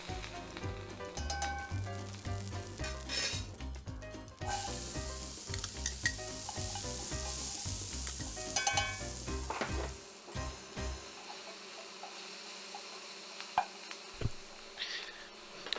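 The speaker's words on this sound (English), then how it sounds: "I'm throwing it in now during the sauteing of the onions process" Onions with fresh thyme sauté in a pan for Hungarian goulash, a continuous close sizzle broken by scraping stirs and clatter, fading to a quieter hiss near the end, with no talking.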